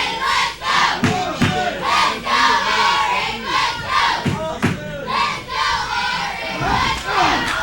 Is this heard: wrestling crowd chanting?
yes